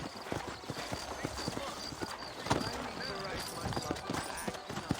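Sturdy horses in New Orleans in the Red Dead Redemption video game clop along in a steady, close hoof rhythm, with a whinny mixed in over ambient game sound and bits of talk.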